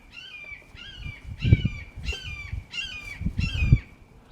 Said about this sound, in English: That hawk was like the size of a small cat.